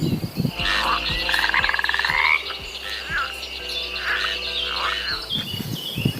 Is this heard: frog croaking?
yes